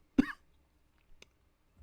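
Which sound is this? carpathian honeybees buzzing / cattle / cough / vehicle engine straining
cough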